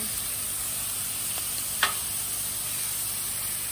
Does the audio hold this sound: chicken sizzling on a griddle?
yes